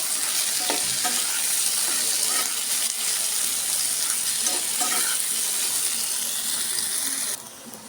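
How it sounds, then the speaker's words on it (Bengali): Kochu stalks fry in hot oil with turmeric and salt, a steady close sizzle with occasional stirring scrapes throughout, dropping off abruptly near the end. "অল্প একটু হলুদ, একটু লবণ দিয়ে ভেজে নেব।"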